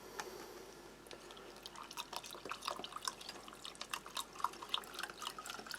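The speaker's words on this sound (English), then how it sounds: "this one will just bring in the cold water" Cold water runs into a glass holding energy drink powder, a steady close trickle with a busy patter of drips and splashes building slightly as it fills.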